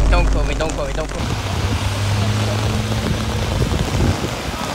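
Heavy rain drumming on an umbrella, a dense, loud, steady hiss of patter close overhead, with a voice briefly at the start.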